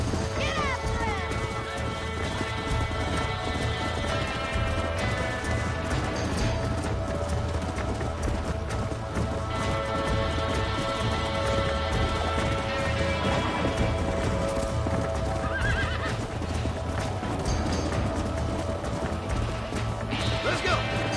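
Horses gallop in Red Dead Redemption with a steady, driving beat of hooves and occasional whinnies during a stallion chase, under game music and shouted dialogue.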